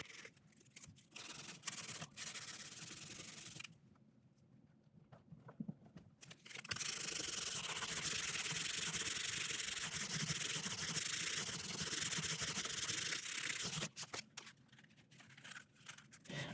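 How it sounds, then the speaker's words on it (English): Abrasive paper rubbing file marks off the frets of a 1958 Gibson LG-1 acoustic guitar, a close, steady scratchy sanding in long stretches with short pauses and lighter strokes between, and no talking. "Now we'll just start taking all the file marks out."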